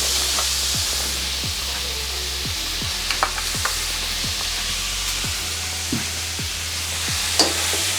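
A spoon stirs chicken gizzards with tomato sauce in a hot pan. Regular scraping strokes, about two per second, repeat over a constant sizzling hiss, with a few sharper clinks and no voices.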